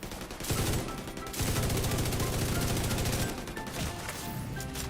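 Rapid automatic gunfire from a shooter video game comes in dense, rattling bursts, with a short pause in the middle and no talk.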